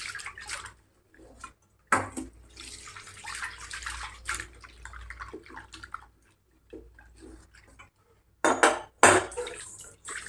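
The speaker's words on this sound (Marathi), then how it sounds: "हिला स्वच्छ अशी धुवून घ्यायची" A new iron kadai being washed under running water, with splashing, pouring and metallic scrubbing clatter in uneven bursts separated by short pauses, heard close up with no talk.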